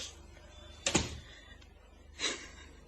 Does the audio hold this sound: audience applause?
no